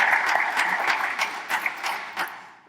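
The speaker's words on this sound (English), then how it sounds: "So give yourselves a round of applause for that." Brief burst of audience applause, dense clapping that fades out over a couple of seconds.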